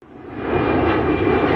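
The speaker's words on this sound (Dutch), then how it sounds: "moet dat vliegtuig al opstijgen" An airplane's engines roar steadily and build in loudness as it begins takeoff, a broad continuous rumble heard on its own without talk.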